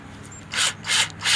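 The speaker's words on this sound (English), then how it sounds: "We're going to go ahead and drill our hole." Three short bursts of drilling bore a hole, each a loud, rough, hissing whir lasting about a quarter second, separated by brief pauses over a faint steady hum.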